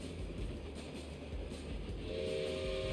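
A train in LittleBigPlanet 3 rumbles steadily through the game, a dense rolling clatter with a horn tone coming in near the end, moderately loud and with no talking.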